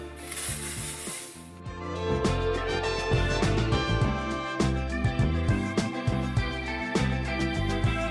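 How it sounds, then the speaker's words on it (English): Hairspray is sprayed onto hair in a short hissing burst near the start, heard over steady background music. "I'm gonna spray some hairspray."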